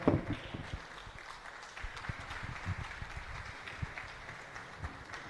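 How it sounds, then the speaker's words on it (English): Faint applause from an audience at a ministry training centre event, a soft, scattered patter of clapping that carries on steadily without a clear peak. "Applause."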